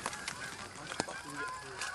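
Geese honk repeatedly during a goose hunt, with several birds calling over one another outdoors in a noisy, continuous stream of nasal honks of moderate loudness.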